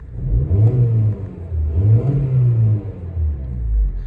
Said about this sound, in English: I'll give it a rev so you can just hear the engine.